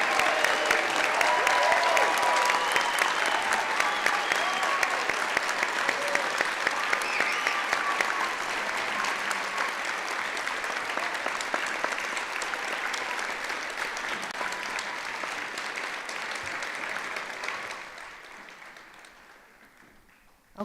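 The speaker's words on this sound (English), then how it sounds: "if we can give them a round of applause" Audience at a youth recognition ceremony applauding the standing honorees, a dense sustained round of clapping that holds steady for a long stretch, then tapers off and fades near the end.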